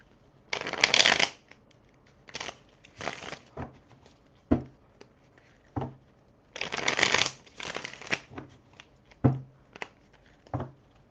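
A deck of tarot cards is shuffled by hand in repeated bursts, riffling flutters followed by soft taps and slaps of the cards, close and clear with no talking.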